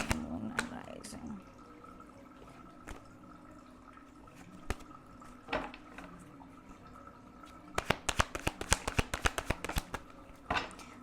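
A tarot deck is shuffled and cards are drawn close to the listener. Scattered soft flicks and slides run through the stretch, then a quick burst of crisp, rapid card riffles comes near the end, with quiet talking in the background.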